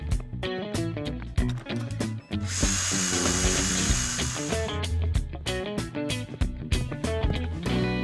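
In a cartoon, a power drill bores holes into a wall in short repeated whirring bursts, with one longer sustained drilling run in the middle, loud and close.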